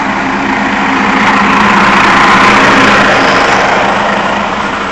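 A city bus idles on a snowy Nashville street, its engine a steady loud drone with a low hum, holding constant and close with a slight swell midway.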